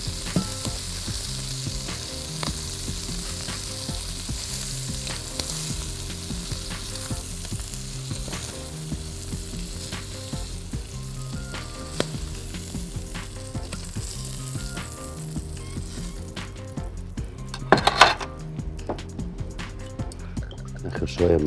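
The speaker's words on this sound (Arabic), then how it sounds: "هننزل الخضره فيه البقدونس والشبت وننزل باخر دفعه من الجمبري" Shrimp, parsley and dill added to a pan of butter sauce sizzle steadily with bubbling and stirring, close and prominent. Some clinks of utensils come near the end.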